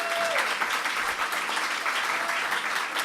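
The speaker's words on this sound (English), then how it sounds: "Let's give them a round of applause." Steady applause from a political convention audience fills the whole span, dense and even without pause, with a faint tone briefly sounding underneath at the start.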